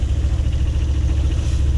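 Car engine on a road in the rain, a steady low rumbling drone heard close and loud throughout, with a faint hiss of wet noise above it.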